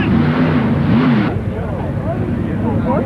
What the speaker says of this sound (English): In the background you can hear a, must be a Can-Am race car.